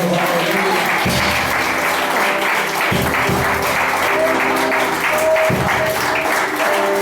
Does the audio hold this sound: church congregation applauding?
yes